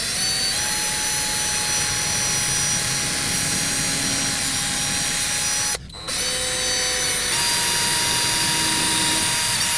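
A power drill runs continuously while boring a pilot hole in old glued wood, a loud steady whine that dips for a moment partway through before resuming.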